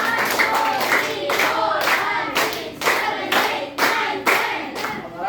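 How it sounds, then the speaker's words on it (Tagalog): Pupils in a Grade VI classroom clap together in a steady rhythm of about ten loud, even claps, close and sharp, with no talking over them. "bigyan ng 10 palakpak sa Sir Albert"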